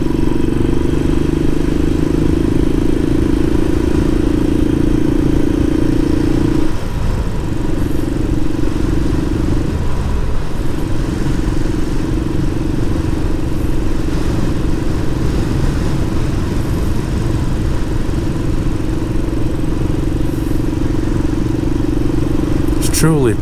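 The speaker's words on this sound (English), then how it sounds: "Let these bikes go from behind me." Motorcycles pass along a road on Mount Teide in Tenerife, a steady loud engine drone that holds throughout, with a voice talking over it.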